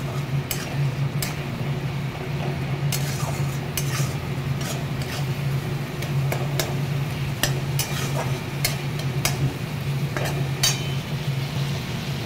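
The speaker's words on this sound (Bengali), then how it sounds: "এবারে এটাকে ভালো করে কষাও" A utensil scrapes and taps against a pan as pointed gourd (potol) with ground coriander and salt is stirred and sautéed, making irregular clinks and scrapes over a constant low sizzle, with no talking.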